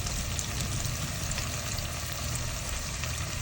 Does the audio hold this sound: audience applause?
no